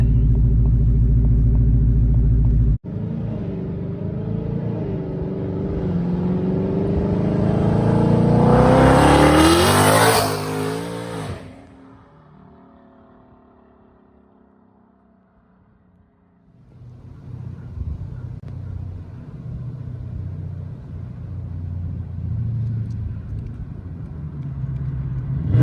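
Modified twin-turbo Ford Mustang engine idling loudly, then revving hard and rising in pitch to a high scream before cutting off, followed by a quieter deep rumbling idle that grows again.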